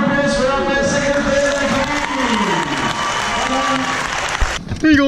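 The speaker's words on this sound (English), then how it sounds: "Big round of applause for our first second" Crowd applause and cheering at a fitness competition throwdown, loud and sustained with shouts and voices over the clapping, ending in a brief burst of noise.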